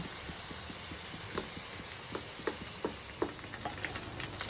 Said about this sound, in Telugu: ఇలా హైలోనే ఫ్రై చేసుకోవాలి